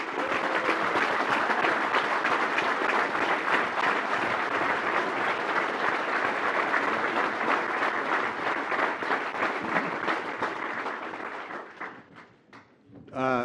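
Sustained loud applause from an audience welcoming an award speaker, dense steady clapping that fades out near the end, with a voice starting up afterward.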